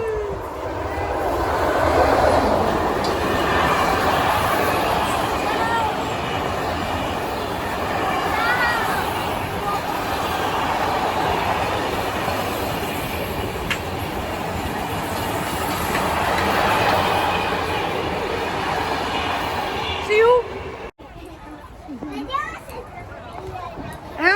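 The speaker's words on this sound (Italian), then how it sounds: "Credo che sia un merci!" A freight train passes close by with a steady rolling rumble and rhythmic clickety-clack of wagons, loud and continuous for about twenty seconds before cutting off, while children talk over it.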